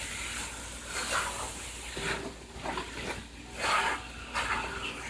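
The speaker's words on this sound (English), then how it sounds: "you pretty much want to stir fry this on medium to high heat" Caribbean-style curried chicken is stir-fried in hot oil on medium to high heat, giving a soft, close sizzle broken by rhythmic scraping and stirring swells.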